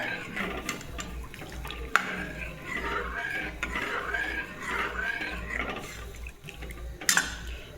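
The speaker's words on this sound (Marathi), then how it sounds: "या पद्धतीने कंटिन्यू बेसन हलवायचं, नाही तर बेसनच्या गाठोड्या होऊ शकतात." Gram flour is stirred continuously in a pan, giving soft scraping and clinking from the utensil against the pan, close and fairly quiet, with a couple of sharper knocks.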